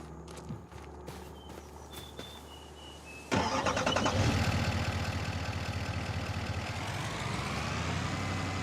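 Propane truck in a farming video game cranking over after a few clicks and footstep-like taps, then catching into a steady, loud idle that holds to the end.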